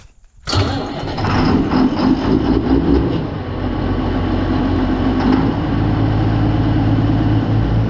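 A tractor engine, the 47, starts with a sharp catch and settles into a loud, steady low idle as it warms up on a farm during corn harvest.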